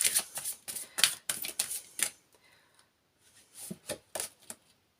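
Tarot cards being shuffled and drawn from a deck, with quick papery riffles and sharp slaps in two bursts separated by a short quiet gap, close and fairly soft.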